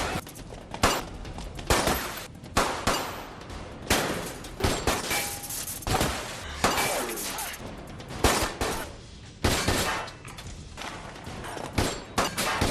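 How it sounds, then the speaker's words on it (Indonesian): Gunfire in an action film scene: rapid bursts and single loud shots crack repeatedly, dense and close, with clattering impacts between them and little pause throughout. "Tapi Sung-ho tak peduli dan menembakkan senjatanya."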